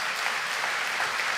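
An auditorium audience at a Kiran Mazumdar Shaw conversation with Sadhguru claps steadily, a dense, even patter of many hands throughout the short stretch.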